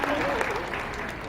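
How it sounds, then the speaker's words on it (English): An audience claps hard for Tinkerbell, a brief burst of steady, dense applause with a voice talking over it. "Just clap hard or we don't believe it."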